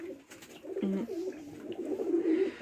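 Soft, low pigeon coos repeat close by over a faint background hum, with no talking.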